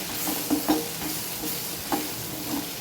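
Squid roast in a pan with coriander and pepper powders being stirred in, a loud, close sizzle broken by repeated scraping strokes of the spoon against the pan.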